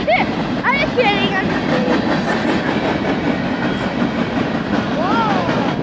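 An eastbound Union Pacific mixed freight train passes close by in a loud, continuous roar with clickety-clack wheel beats, while excited voices whoop over it.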